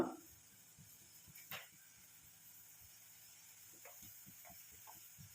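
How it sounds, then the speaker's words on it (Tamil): Homemade hair dye mixture bubbling in a pan, a faint steady simmer of soft repeated pops and a quiet hiss, close and low in level. "இப்போ இது நல்லா கொதிச்சுக்கிட்டு இருக்குங்களா"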